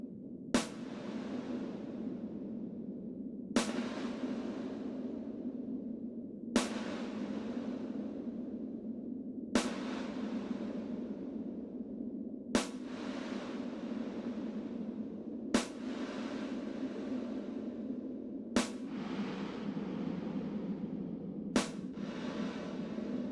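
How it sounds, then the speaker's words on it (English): Sharp pulses repeat every few seconds, each trailing into a long, washy reverberant decay over a sustained low drone, giving a spacey, echoing ambience from the Klevgrand Walls reverb app on iPad. "the sounds you hear when they have the recordings of outer space"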